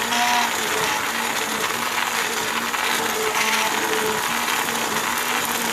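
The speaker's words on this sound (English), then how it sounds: "And I've got my trusty blender here" A stick blender whirs continuously through coconut curry pumpkin soup, a steady, bright buzzing hum with faint rattles, close and loud throughout.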